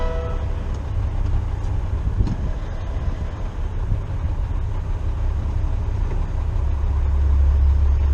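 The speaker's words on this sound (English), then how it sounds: "Looks like there's a train coming" A train rumbles past close by, a loud continuous low roar with rattling that swells toward the end.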